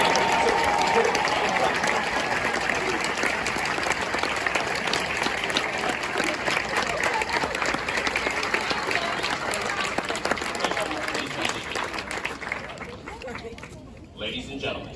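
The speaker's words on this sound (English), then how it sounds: "Ladies and gentlemen, a round of applause for their dedicated service." A large audience at a Marine Corps graduation ceremony claps loudly and continuously, dense applause mixed with crowd chatter, thinning out toward the end.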